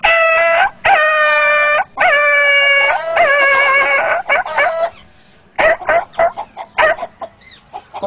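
A voice imitates a dog, giving a string of long, loud, tonal howling barks in steady bursts, followed by shorter choppy yelps, close and with no other voices.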